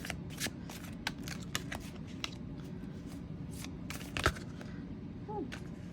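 Tarot cards being shuffled by hand in a steady, soft riffling and sliding with scattered sharper snaps, close and continuous, with no talk.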